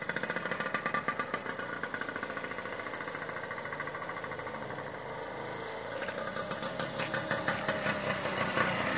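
A 1950 Bown Auto Roadster 98cc autocycle engine catches and runs with a rapid, even two-stroke putter, close and steady, building slightly louder toward the end.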